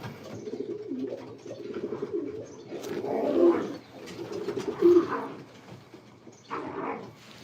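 Pigeons in a pigeon loft cooing in low, throaty swells, several overlapping calls rising and falling close by, with little talk.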